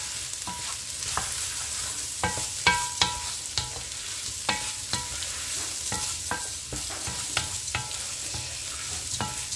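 Rice is stirred in a pot while fish fries in red sauce: a steady soft sizzle runs underneath as a spoon scrapes and clacks in a loose rhythm, close and clear.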